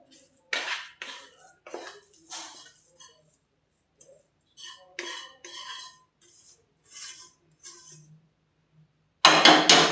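Sesame sukhdi mixture being scraped out of a pan onto a ghee-greased plate, giving a series of short metallic scrapes and clinks in separate bursts, followed by a louder, dense rush at the very end.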